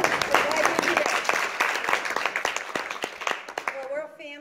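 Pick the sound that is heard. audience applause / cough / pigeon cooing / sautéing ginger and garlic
audience applause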